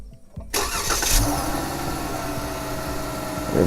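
A Chrysler car engine cranks and catches after a brief quiet moment, then settles into a steady, close idle with a low rumble that continues to the end.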